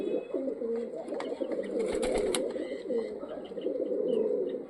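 Pigeons coo steadily and continuously at close range, a low rolling burble with a few faint clicks and rustles mixed in.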